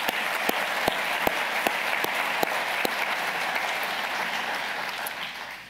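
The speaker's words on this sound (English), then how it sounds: "let's give him a round of applause" Steady applause from an audience at the U.S. Naval Institute's annual meeting, a full even round of clapping with some sharp nearby claps early on, trailing off near the close.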